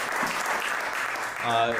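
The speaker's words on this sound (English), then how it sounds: "clap it up for these guys" Clapping from a comedy-club audience after a roast battle final round, a dense patter of hands throughout, with a voice starting to talk over it near the end.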